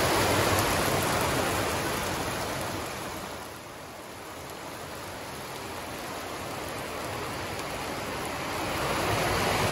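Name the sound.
Doron river flowing under a bridge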